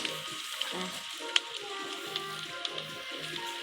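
Fish sizzling as it fries in a raft survival video game, a steady crackling hiss with occasional sharp pops, moderately quiet and alone.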